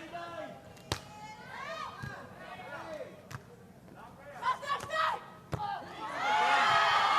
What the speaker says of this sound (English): Crowd helping on the hometown team.